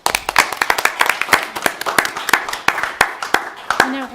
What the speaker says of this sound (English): So we'll do a round of applause